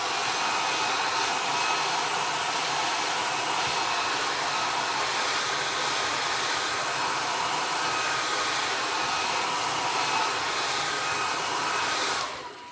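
A heat tool blows continuously to dry a watercolor snowdrop painting and warm the masking tape, a loud steady whooshing hum held close for a long stretch before cutting off at the end, with no talking.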